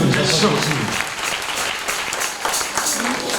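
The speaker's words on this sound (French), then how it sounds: "Acclame Jésus, acclame Jésus." A church congregation at a Saturday service applauds loudly and continuously, close up, with voices mixed into the clapping.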